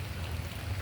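Rain falls steadily in a wooded eco park, a soft, even patter in a very short snippet with no voices.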